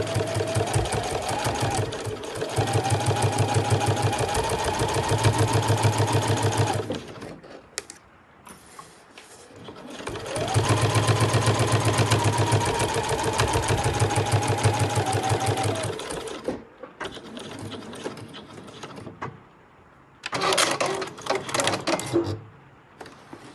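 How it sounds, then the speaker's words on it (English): Sewing machine stitching down the back pocket of a backpack, running in two long steady bursts of rapid, even stitching with a brief pause between them, then a shorter final run near the end. "I'm now just going to stitch all the way down here"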